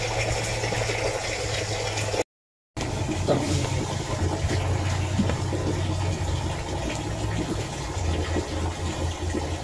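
Lambanog coconut liquor dripping and running from a still, heard as a steady watery trickle and hiss with a low hum beneath, continuous apart from a brief cut near the start.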